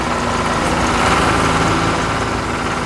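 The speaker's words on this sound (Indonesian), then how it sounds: "Lihatlah, sang traktor merah mulai bekerja, membelah tanah dengan penuh semangat" A red tractor works the soil of a farm field, its engine giving a dense, continuous mechanical drone at steady loudness.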